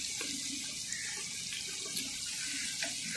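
Water poured into a cooking pot while making Lahori murgh cholay (chicken and chickpeas), a steady, quiet splashing stream with faint drips and no talking.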